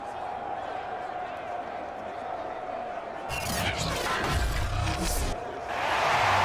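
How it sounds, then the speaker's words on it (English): Stadium crowd in the Madden NFL 22 football game breaks into louder shouting and cheering partway through, swelling over a steady background roar of the arena, with a further surge near the end. "Plenty of shouts from this crowd as they watch the replay"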